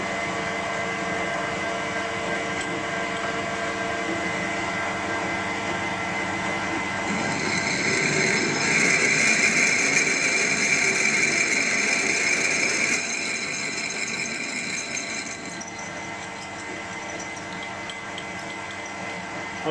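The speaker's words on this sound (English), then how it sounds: "I'm just going to bore it through for the third shaft" Steady mechanical machining hum with a high tonal whine as a metal casting is bored through for a traction engine gear shaft; a louder, harsher cutting passage swells in the middle, then eases back to the running machine.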